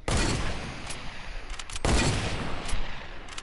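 Gunfire in a video game, a rapid burst of shots with sharp cracks clustered near the start and middle, fairly close and moderately loud.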